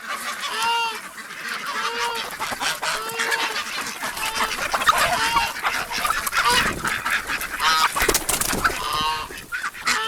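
Geese honk repeatedly nearby amid clucking chickens and ducks, a busy, noisy farm chorus with overlapping calls.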